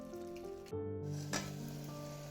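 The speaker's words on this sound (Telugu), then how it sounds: "మటన్ బాగా వేగిపోయింది అనమాట. ఆయిల్లోనే ఫ్రై చేసాం కదా వితౌట్ వాటర్ వేసి." Mutton sizzling and frying in oil with no water added, a steady continuous crackle with a brief louder stir or pan scrape partway through, no talking.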